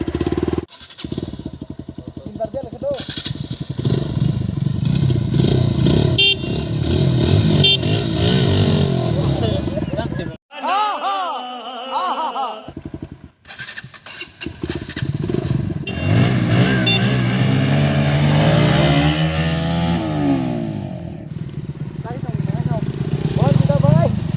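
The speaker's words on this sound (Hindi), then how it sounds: "अभी पिकअप टेस्ट करने के लिए जा रहे हैं" Bajaj Pulsar NS125 BS6 motorcycle in orange pulling away hard in a pickup test against another rider, engine rising and revving loudly close by while people talk over it.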